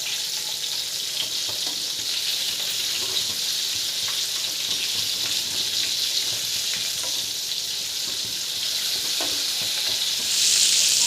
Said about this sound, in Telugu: ఆయిల్ ఎక్కిన తర్వాత ఇలా ఒక్కొక్కటిగా వేసుకుని వేయించుకోవాలండి